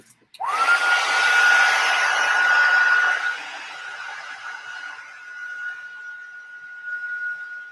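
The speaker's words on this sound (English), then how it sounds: "Okie dokie, hair dryer." A handheld hair dryer switches on with a sudden whoosh and runs as a steady, loud whirring blow at an art table, easing slightly in level after a few seconds and then carrying on alone.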